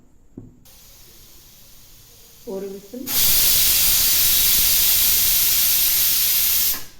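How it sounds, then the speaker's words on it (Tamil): A loud, steady hiss of escaping steam bursts in and holds for several seconds after a few faint clatters: a pressure cooker whistle venting while cooking tomato kurma. "ஒரு விசில் வந்துருச்சு."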